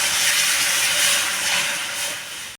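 Water poured into a hot pan for a rustic gram-leaf vegetable dish, letting out a loud, steady hiss of steam that holds for a couple of seconds, then cuts off abruptly.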